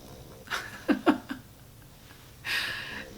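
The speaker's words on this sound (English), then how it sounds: "the pug snores her approval" A pug dog's snoring: a few short snorting, snuffling breaths close by, then a longer hissing exhale, with quiet gaps between them.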